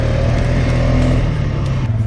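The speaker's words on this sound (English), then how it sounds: "Yeah, I'm full throttling it over." A CFMoto Cforce 600 ATV engine revs hard at full throttle, a steady close-up drone with strong low harmonics that holds for a couple of seconds, loud and continuous with no talk over it.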